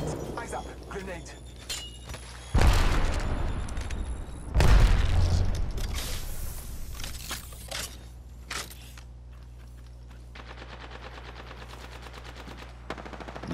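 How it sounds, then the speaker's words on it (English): A thermite grenade goes off during a squad firefight in Army of Two, two heavy broadband blasts arriving a couple of seconds apart amid bursts of gunfire, then trailing into sparse crackling and distant shots. "Deploying thermite grenade."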